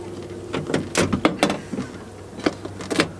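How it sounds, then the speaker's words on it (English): An old car door panel being pushed and clipped back onto the door after the insulation is refitted, heard as a series of sharp plastic clicks and thumps in an irregular burst, close and fairly loud. "Stick the old door panel back on."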